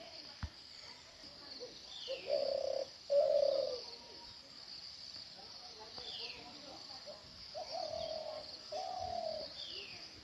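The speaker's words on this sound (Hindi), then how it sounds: "हेलो घुघुती, हेलो। हमारे पहाड़ की प्यारी पक्षी" A ghughuti dove coos in a Himalayan mountain village at evening, soft paired hoots repeating in two bursts a few seconds apart, moderately close, over a background of insect hiss and quiet outdoor ambience.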